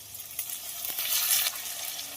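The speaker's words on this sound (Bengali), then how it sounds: "পেঁয়াজ আর টমেটো কিন্তু একদম ভাজা ভাজা হয়ে গেছে।" Chopped onion and tomato sizzling in a pan with whole spices, a brief soft hiss of frying with faint stirring movements, close and steady.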